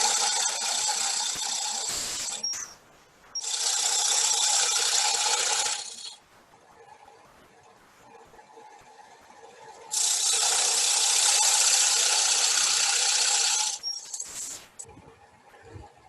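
A woodturning tool scrapes down into spinning wood on a lathe during a woodturning demonstration, with two long steady hissing scrapes separated by a quieter stretch and a few brief knocks, close and loud.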